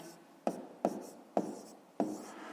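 A pen or chalk writing math by hand makes four evenly spaced taps, each followed by a short scratchy stroke, close and fairly quiet.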